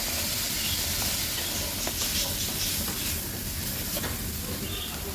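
Sausage and shallots stir-fried together in a pan give a steady, close hiss and sizzle with faint scraping from stirring, continuous throughout with no talking.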